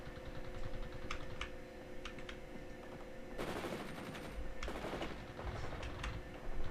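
Machine gun fire in the war strategy game World in Conflict, sounding as two dense bursts of rapid automatic shots at mid distance over steady battlefield rumble, with scattered sharp clicks before and after.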